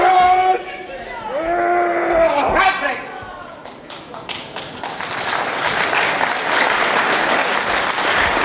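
Crowd applause at a professional wrestling match builds after a commentator's voice and some crowd shouts, swelling into a dense, sustained clapping wash in the later half.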